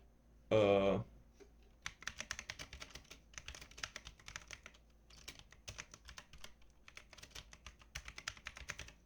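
Rapid clicking on a computer keyboard, a fast irregular patter of key presses running for several seconds after a brief voice at the start.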